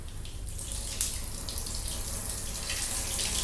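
Water runs steadily from a shower, a continuous hissing spray with a faint splash, heard alone and at moderate distance.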